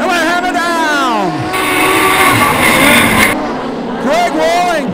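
Modified production race cars at Lismore accelerate hard off the start, engines screaming up through the revs in a loud, sustained roar as the pack sweeps past, with a commentator talking over it.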